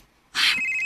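A phone starts ringing for an incoming call at night: a sudden bright electronic ring that holds as a steady tone, close and clear, with no voices.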